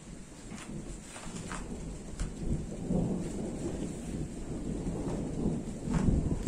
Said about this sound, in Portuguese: Está trovejando bastante, está preparando uma boa chuva.